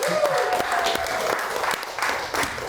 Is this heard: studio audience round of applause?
yes